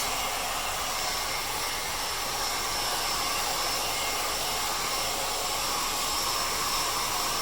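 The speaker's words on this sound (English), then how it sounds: "Time to bring in the old handy dandy hairdryer and just start applying some heat." A hair dryer blows steadily and loudly for the whole stretch, a constant broadband whoosh with a faint high whine and no other sounds.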